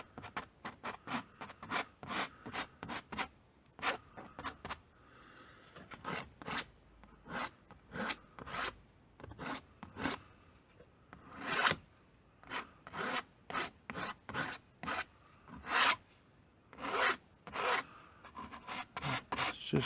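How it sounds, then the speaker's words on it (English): A small hand scraper drags paint across paper on a car drawing of a Datsun B210, making rapid, repeated close scratching strokes in short rhythmic bursts with brief pauses, with no talking. "Just do around here, just scraping up, having some fun here."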